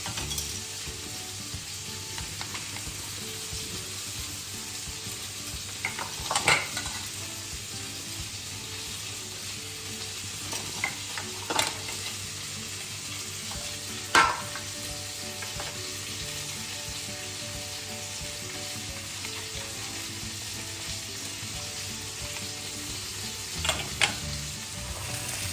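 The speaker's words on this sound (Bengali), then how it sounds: "অতক্ষণে আমার মাছটা ভাজা হচ্ছে।" Fish frying in oil in a pan for a Bengali prawn curry, a steady low sizzle running throughout with a few sharp clatters of a utensil, moderately near and no voices.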